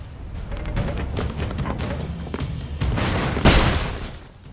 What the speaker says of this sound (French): Tout petit flingue, méga bruit. Et gros dégâts.